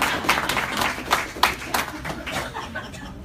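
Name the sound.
audience round of applause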